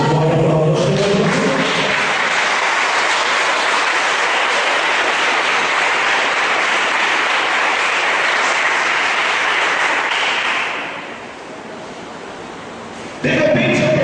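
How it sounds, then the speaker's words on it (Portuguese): Church congregation applauding during a sermon, a dense, steady wash of clapping that holds for about ten seconds, then drops away, with a voice briefly heard at the start and end. "Você pode aplaudir o Senhor."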